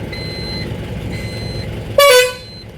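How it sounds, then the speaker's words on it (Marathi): A truck's air horn, sounded after the air pressure has dropped, gives one short, loud, bright blast that fades quickly, following a steady low rumble from the idling truck. "एअर हॉर्न कसा वाटतो बघा एअर उतरल्यानंतर."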